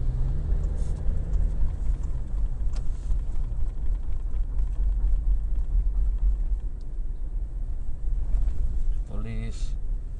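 A lorry passes on the road beside a religious study gathering. A steady low engine rumble runs throughout and swells slightly near the end, under faint speech.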